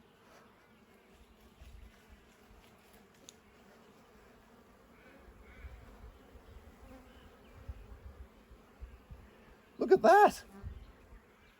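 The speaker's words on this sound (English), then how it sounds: "Looks like we've got some of the local bees here as well." Faint buzzing of bees around a hive on a farm drifts through the background beneath quiet voices, with a brief louder burst near the end.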